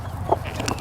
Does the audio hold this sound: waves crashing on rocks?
no